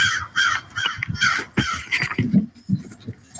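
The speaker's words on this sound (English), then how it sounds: "I heard him squawking." A bird squawks outdoors in a run of harsh, repeated caws, loud and close, followed by lower scattered calls.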